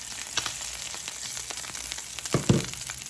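Salmon and shrimp sear in a hot pan for pineapple bowls, giving a steady close sizzle with faint crackles and a couple of sharper clatters near the end, no voices.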